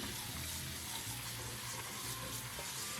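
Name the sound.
washing asparagus under running tap water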